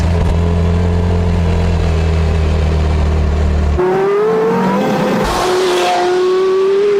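A Porsche Carrera GT's V10 engine drones loudly, then the pitch jumps as it revs and climbs sharply in a rising wail near the listener.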